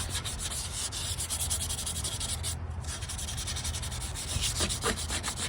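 Hand polishing of a metal exhaust tip with 600-grit sandpaper produces close, steady rubbing strokes in a fast back-and-forth rhythm, continuous throughout with a brief lighter pause midway.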